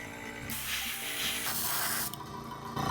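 Airbrush spraying orange fluid acrylic paint with the trigger pulled fully back onto an MDF Halloween gnome, a continuous close airy hiss that shifts in tone as the spray moves, with no talking.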